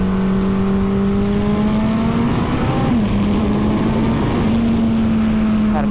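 Turbo Hayabusa motorcycle accelerating hard in second gear, a loud close engine note climbing steadily in pitch with a brief dip around a shift, steady rushing wind underneath throughout.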